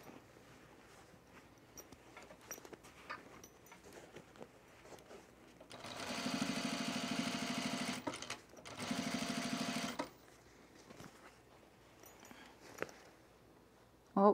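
A sewing machine runs in two steady bursts of a few seconds each while stitching a baby bag along an original stitch line, with the motor speed turned down. The bursts stand loud and alone after quiet handling noises.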